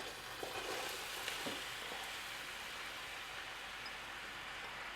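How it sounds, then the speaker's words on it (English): Two large onions sauté in olive oil in a pot, a faint, steady sizzle with a few soft stirring clicks early on and no talking. "And now we saute the onion."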